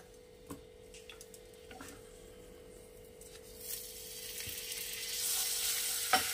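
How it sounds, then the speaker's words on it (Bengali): Butter sizzles in a pan with vermicelli, starting as faint scattered ticks over a low hum, then rising into a brighter, louder hiss of frying toward the end, with one sharp clink near the close. "এইবারে আমি এর মধ্যে দিয়ে দেব একটু বাটার।"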